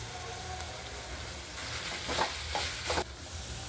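Mint leaves dropped into hot oil tempering with ginger-garlic paste for a chicken sukka, giving a soft sizzle that flares in a few short bursts as the pan is stirred, close and fairly quiet.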